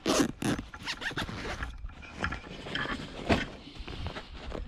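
A zipper on a Warrior X300 multicam military assault pack is fastened in several quick, close rasping pulls, with short pauses between strokes and no talk.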